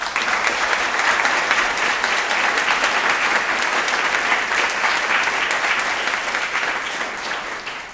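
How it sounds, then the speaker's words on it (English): Sustained applause from an audience honoring award recipients at a 2009 health policy awards ceremony, dense and steady throughout before tapering slightly near the end. "Let's give them a round of applause."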